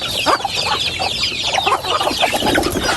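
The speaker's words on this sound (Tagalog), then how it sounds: "Sisiw ito ah." Chickens and chicks clucking and peeping in a cage or pen, a steady busy chorus of calls that stays close and fairly loud throughout, with no talking.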